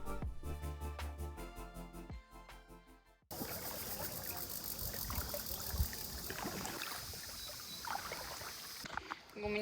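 A kayak is paddled on water at Ha Long Bay or Ninh Binh in Vietnam, with trickling, splashing strokes and dripping after a burst of music, close and moderately loud.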